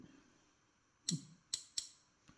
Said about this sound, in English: You can feel that stainless is not over happy with being cut